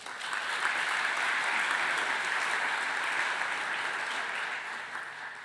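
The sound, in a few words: audience applauding at university meeting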